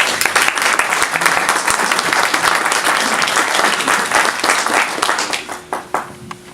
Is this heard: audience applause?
yes